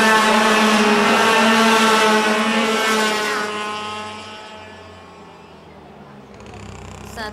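FS-125 racing karts at a regional kart championship race howl past after the final corner, a loud high-revving two-stroke whine that fades as they pull away, with a commentator talking over it.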